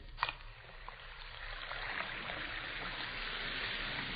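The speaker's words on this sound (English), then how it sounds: "You hear that fizzing, sparkling sound?" Two Alka-Seltzer tablets fizzing in a glass of water, a steady soft hiss of sparkling bubbles that builds slightly and holds, close and faint, after a small splash at the start.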